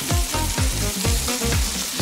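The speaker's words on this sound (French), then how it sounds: "Parfait pour la friture." Breaded food fries in hot oil, a steady loud sizzle with rhythmic stirring or scraping pulses repeating about every half second, close up and without talk.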